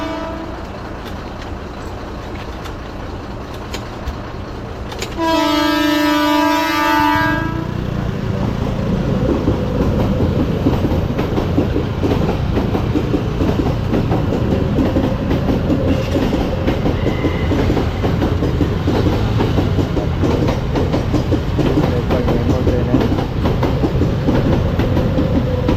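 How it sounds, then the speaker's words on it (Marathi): A train rolls through a level crossing after a long wait at the lowered gate: a loud horn blast sounds, then the heavy clatter of cars passing close by carries on steadily to the end. "फाटक पडलं, आले ट्रेन आली."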